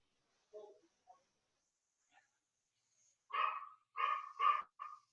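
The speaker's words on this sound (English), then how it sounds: "Let me wait for this dog to stop barking really fast." A dog barking during an indoor yoga session, a few faint yips first, then a run of louder sharp barks close together near the end.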